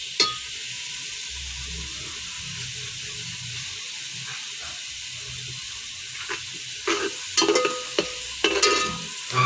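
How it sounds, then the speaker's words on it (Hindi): Mutton pieces drop into hot oil for yakhni pulao and fry with a continuous sizzle and hiss, which swells into louder spattering bursts toward the end, with no voices. "फिर मैं गोश्त डालूँगी।"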